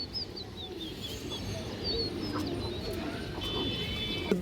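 Pigeons, including fancy breeds, coo softly in the background while other small birds chirp in brief high tweets over steady ambient noise.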